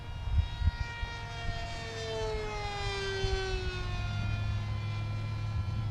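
A Carbon Z Scimitar RC plane makes a high-speed pass, its whining electric motor tone sweeping steadily downward in pitch as it flies by, loud and sustained over low wind rumble and a few handling bumps.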